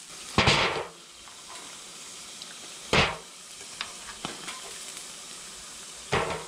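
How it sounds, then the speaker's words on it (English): Plantain slices fry in hot oil for fried plantains, a steady soft sizzle punctuated by three louder bursts of crackling spatter, close and without speech. "I'm gonna let them sit for just maybe 1 more minute inside the oil."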